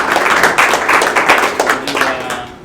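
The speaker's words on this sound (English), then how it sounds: "big clap for them" An audience at a Xamarin Evolve recap meetup hosted by Object Partners claims for sponsors and host, a dense, steady wash of many hands clapping close by for the whole stretch.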